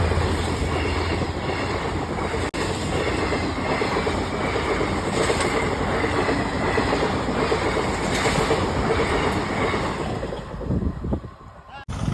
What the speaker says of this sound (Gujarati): ટ્રેન વહી ગઈ છે